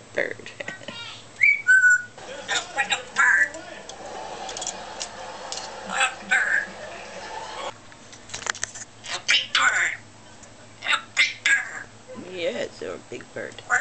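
A pet bird whistles in short, bright chirps and warbles at close range, alternating with a person talking to it in a soft, coaxing voice.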